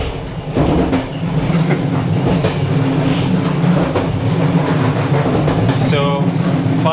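A Bulgarian train with six wagons rolls past on rails, a loud, close, sustained rumble with rhythmic clickety-clack from the wheels, and a brief high squeal near the end.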